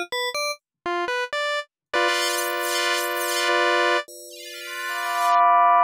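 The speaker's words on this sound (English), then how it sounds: "Beats Basteln released a collection of free wavetables that you can use in" A synth plays free Beats Basteln wavetables: short staccato buzzy stabs first, then a long bright sustained chord with sweeping harmonics, followed by another held tone that grows louder, clean and dry with no talking.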